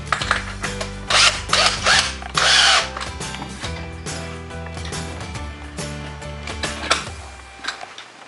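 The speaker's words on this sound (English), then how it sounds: "we have to drill all of the holes" A power drill bores holes into sheet metal ductwork in several short bursts, with whining motor tones and grinding, close up and loud, easing off toward the end.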